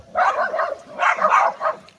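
Excited barking and yipping from dogs at home, two close bursts of eager, whiny vocalizing with a brief pause between them, no talk over it.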